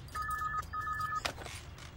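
A landline telephone rings in a film scene: two electronic ring bursts of about half a second each, separated by a short gap, heard clearly over a low background hum before a brief click.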